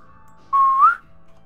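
A single short whistle from one person, clear and close, holding a steady note that bends upward at the end, with quiet background before and after.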